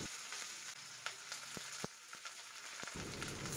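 Onion and green chillies frying in hot mustard oil with cumin and mustard seeds, a steady close sizzle and crackle broken by a few sharp pops and spatters, no voices.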